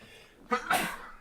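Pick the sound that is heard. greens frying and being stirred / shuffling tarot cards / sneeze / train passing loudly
sneeze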